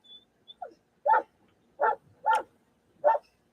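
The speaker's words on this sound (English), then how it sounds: "Sorry about the dogs." Dogs barking: a few soft yips open, then four short, separate barks follow at roughly even intervals, moderately loud with quiet gaps between them.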